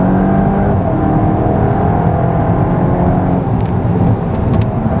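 A VW Golf GTI Clubsport or tuned Golf R driven hard on a race circuit at about 100 mph, its engine a loud, steady close drone and whir with wind roar, easing slightly near the end.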